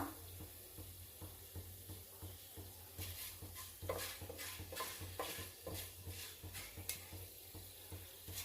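Ingredients for radish sambar fry quietly in a pan, a low crackling sizzle with a regular rhythm of soft stirring strokes, no talk.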